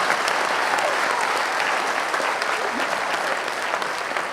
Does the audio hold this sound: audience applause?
yes